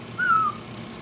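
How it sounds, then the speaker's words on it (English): A game character whistles in Mafia 3 to lure enemies: a single short rising-then-falling whistle, clear and fairly close, over a low steady background hum. "I'm just whistling and they just keep coming"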